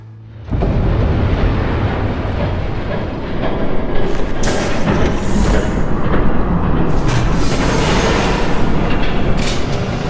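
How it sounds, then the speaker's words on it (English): A train in a video game passes close by, starting abruptly as a loud, continuous rumbling roar with rising hiss and clatter that holds for about ten seconds. "There's a train coming."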